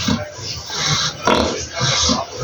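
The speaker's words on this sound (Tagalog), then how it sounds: "ang baboy natin na puti ay si Maduna." White pig grunting up close in a pen, a few short rhythmic snorting grunts in quick succession, loud and near, with a person talking in the background.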